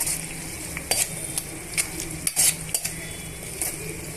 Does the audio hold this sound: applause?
no